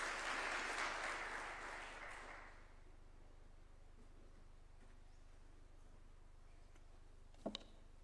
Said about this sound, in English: We can welcome him with a clap as well.